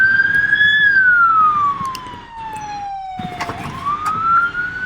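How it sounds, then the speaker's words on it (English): A fire engine's wailing whale siren in a Roblox game sweeps loud and close, its tone falling slowly and then rising again, with no one talking over it. "So this is their siren. This is the whale siren"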